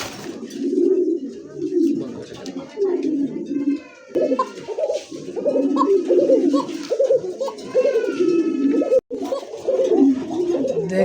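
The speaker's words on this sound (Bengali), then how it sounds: "এই যে কবুতর ডাকটা দেয় কুকার ডাক" Domestic pigeons coo repeatedly up close, with deep rolling calls following one another almost continuously and a few higher chirps mixed in.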